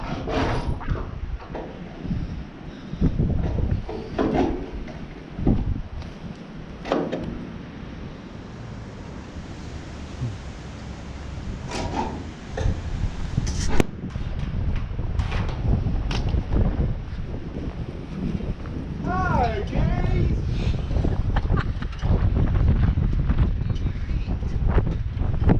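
Strong gusty wind buffets the microphone outside a Dutch barn, roaring steadily with bumps and knocks, and a few faint squeaks and creaks show through the noise.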